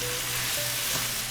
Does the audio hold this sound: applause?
no